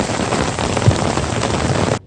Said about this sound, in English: Still raining pretty good.